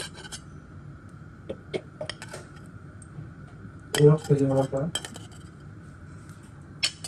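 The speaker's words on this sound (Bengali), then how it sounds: "এটা হচ্ছে কেটে নিব ছোট ছোট করে" A knife cuts tofu into small pieces on a kitchen board, giving scattered light taps and clinks with a brief louder clattering patch, over faint background hum and a short stretch of voice.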